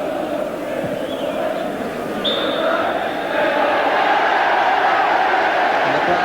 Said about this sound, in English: The crowd applaud.